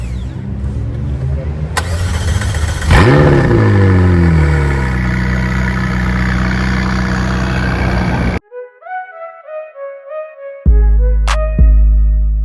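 Ferrari 330 GT 2+2 in red starts and revs up loudly close by, engine note climbing then settling into a steady idle before cutting off, followed by a few short bright tones and sharp clunks.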